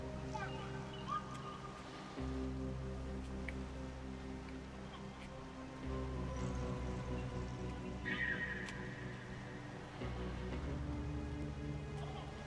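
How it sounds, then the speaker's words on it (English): Steady rain falls in the video game Death Stranding 2, a continuous wash of drops under a low ambient hum and game music, with no talk heard. "As soon as I wake up, raining?"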